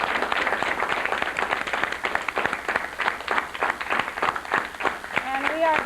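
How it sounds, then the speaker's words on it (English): An audience applauds at a live local broadcast event, with rapid, uneven clapping filling the room while a voice speaks over the end. "Let's give them a big round of applause for being with us tonight."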